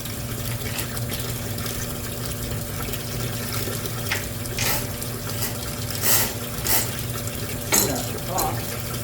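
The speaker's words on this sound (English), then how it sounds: "You're going to see the water start to come out in a second." Water surges and splashes from a backed-up main drain in a house, a steady rushing flow with intermittent gurgling bursts.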